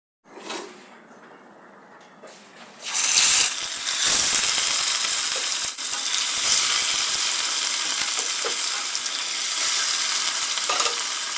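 Mustard oil with turmeric and salt sizzles loudly in a copper pot, a steady close hiss that jumps up after a quieter start and holds for several seconds.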